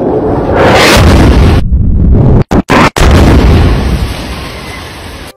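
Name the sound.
Spice-2000 guided bomb dropped by Israeli F-16 exploding on building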